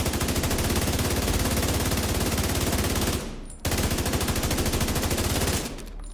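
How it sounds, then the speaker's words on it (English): The Eagle Bearer assault rifle in The Division 2 fires in a loud, rapid automatic stream at 1040 rounds per minute. It runs for about three seconds, breaks briefly, then resumes in a second long, even burst. "Now watch when I leave cover how much faster this gun shoots. It goes from 800 RPM to 1040."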